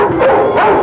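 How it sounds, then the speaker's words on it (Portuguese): A German shepherd working for Rio de Janeiro's animal defense department gives loud, close barking that fills the short moment, alone without talk. "Doca, esse pastor alemão, é o mais novo funcionário da Secretaria de Defesa dos Animais do Rio de Janeiro."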